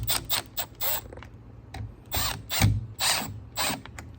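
Screws are driven in while installing an Elemake smart deadbolt with a Milwaukee driver. Close, loud ratcheting mechanical bursts repeat in a rough rhythm, each lasting a fraction of a second.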